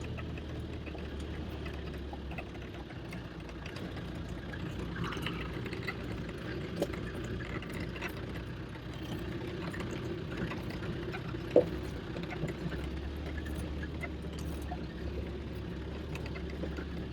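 An off-road overland vehicle engine runs on a high mountain track above 2,000 metres in the Pyrenees' Alt Pirineu natural park, giving a quiet, steady low hum that stays even throughout with a single brief knock.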